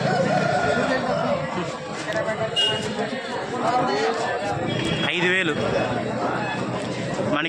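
A country rooster crows amid the bustle of a weekly village poultry market at Gokavaram, sounding out over steady crowd chatter and nearby talking voices.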